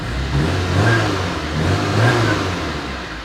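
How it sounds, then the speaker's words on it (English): A Porsche 924 engine runs steadily nearby, its mid-pitched drone swelling twice as it pulls, with a constant whirring undertone. "But the engine seems to run pretty nice. It pulls pretty nice."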